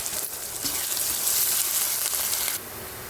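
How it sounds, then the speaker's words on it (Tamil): Sliced big onions and slit green chilies fry in hot oil in a pan for an egg masala, giving a loud, steady broadband sizzle with no voices, easing slightly near the end. "பெரிய வெங்காயம் இதை போட்டுட்டு நம்ம இதை பொன்னிறமாக வதக்கணும்"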